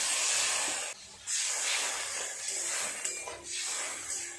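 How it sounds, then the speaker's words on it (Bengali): Water hits a hot pan of spicy fish curry, giving a loud, steady steam hiss that dips briefly, then surges again and continues close by. "জল দিয়ে দিই।"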